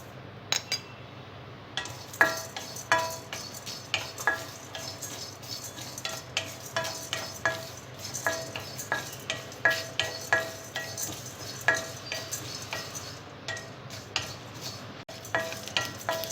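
Spices and lentils dry roasting in a pan for stuffed ivy gourd, a soft steady rattle with regular scraping and clinking strokes of a spoon against the pan, no voices.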